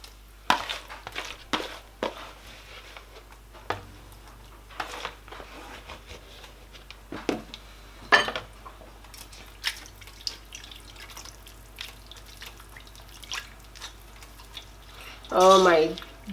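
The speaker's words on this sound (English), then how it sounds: "So I'm adding in the spaghetti." Drained cooked spaghetti tipped into a pan of creamy coconut-milk vegetable sauce, a string of scattered clicks, clatters and wet drips from utensils, close and moderate, ending in a louder burst of scraping and sizzle.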